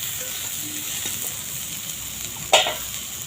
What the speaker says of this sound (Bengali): অল্প একটু তেল দিয়ে ভেজে নেব। ভাজলে কাঁচা সবজির গন্ধগুলো চলে যাবে, ওই জন্য অল্প করে ভেজে নিচ্ছি।